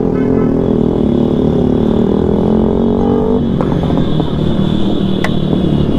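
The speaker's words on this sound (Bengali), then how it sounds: "যারা এইটটি সিসি বাইক নিয়ে কি করে দেখেন" A boy rides an 80cc motorcycle, its small engine loud and close with a steady buzzing note that shifts pitch midway as he changes speed, a few clattering knocks sounding near the end.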